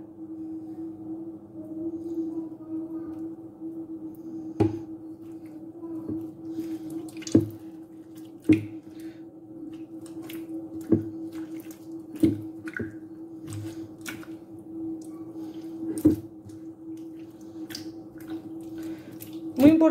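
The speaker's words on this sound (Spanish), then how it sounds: "Hay que lavar la mantequilla hasta que el agua salga completamente limpia" Homemade butter washed by hand in water for Moroccan smen: soft irregular squishes and drips, repeated every second or two over a steady low hum, quiet and close.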